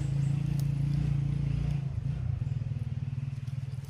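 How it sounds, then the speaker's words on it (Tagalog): Motorcycle engines idle and rumble close by near a camp in a video game, a steady low drone that shifts into a pulsing putter partway through, with no talk. "Malapit ako sa kampo. Naririnig ko na yung mga motor."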